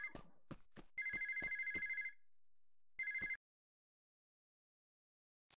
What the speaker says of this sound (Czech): Zvoní nám tu telefon, takže jdeme zvednout telefon.